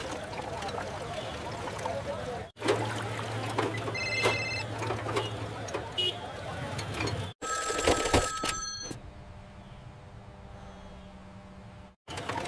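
An old-style telephone bell rings in bursts during a tense police-station scene in a Hindi drama, with music and voices around it and a sharp cut partway through.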